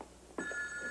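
An older telephone bell starts ringing abruptly in a quiet room, a single sustained metallic ring heard at moderate distance with no talk over it.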